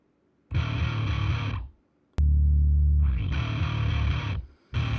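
Heavily distorted bass guitar recorded direct input, dry and gritty, playing sustained notes in bursts with short gaps between them.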